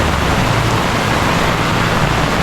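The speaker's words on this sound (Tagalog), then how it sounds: "Tapos ganito kalakas yung ulan." Heavy rain pours during a motorcycle ride, a loud, dense, unbroken hiss of water mixed with road and wind rush, steady throughout.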